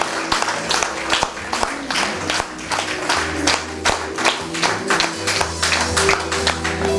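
An audience applauds steadily at a Family, Love and Fidelity Day celebration, dense clapping continuing throughout with a faint low hum underneath.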